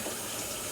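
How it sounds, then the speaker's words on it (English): Tap water runs steadily over a blender lid in a home kitchen sink, a short continuous hiss and splash with no talking. "We're gonna rinse the top real good."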